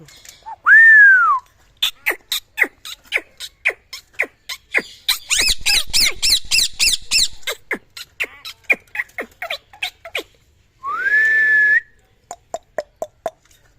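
Pet parakeet (tiya pakhi) whistling, with long rising whistles at the start and end and many quick sharp chirps between, plus a denser burst of chatter in the middle, close and loud with no talking.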